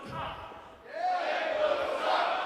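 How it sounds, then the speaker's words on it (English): Wrestling crowd at a Kansas City show roars and cheers in support of the home tag team, a loud sustained swell of voices with a rising shout rolling through it. "the crowd starting to get really behind Kansas City here"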